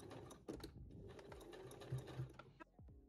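A sewing machine hems a merino wool polo shirt with a double needle in a short, close burst of fast mechanical stitching that stops abruptly near the end, with no talking.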